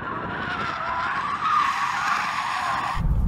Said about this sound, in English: I can send it all the way to the back, have the stability off, and it should, in theory, be able to drift.